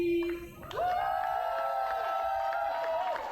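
Crowd at a Rotterdam roller derby bout against the Eindhoven Rockcity Rollers cheers and whoops for the Honeybees, a sustained roar from many voices that swells after a brief lull and holds steady.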